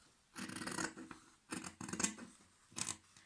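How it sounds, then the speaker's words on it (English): Scissors cut through cotton fabric pieces for a fitted face mask, giving three close, crisp bursts of snipping and rasping, each lasting about half a second with short quiet gaps between. "So we have 2 mirror copies, and now I cut them."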